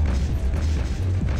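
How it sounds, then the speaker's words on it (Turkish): A firework-like explosion in the Max Payne video game booms low and heavy, rumbling loudly through the whole short moment with no voices. "Havai fişek gibi bir şey patlatıyorum"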